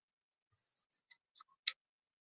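Scissors snip through paper and sticky tape while a U shape is cut for a hand-painted T-shirt stencil, a short run of faint, close, crisp clicks ending in one sharper snip.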